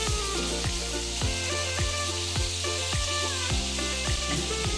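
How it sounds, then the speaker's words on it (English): Pieces of fish frying in hot oil give a steady, dense sizzle and crackle throughout, with no other sounds on top; the turning of the pieces cannot be made out separately. "Now let's check and turn the fish pieces to the other side,"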